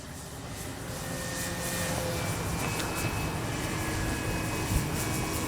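A Hangar 9 Valiant RC plane with a 20cc engine drones at quarter throttle during an aileron turn, a steady, even buzz that holds a fairly constant level throughout with no talk.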